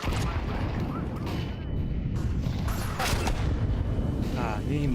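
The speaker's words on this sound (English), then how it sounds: "Grenade out." Loud, dense battle noise from a Counter-Strike 2 match, with booming gunfire and a grenade explosion rumbling continuously through the clip, while voices talk over it.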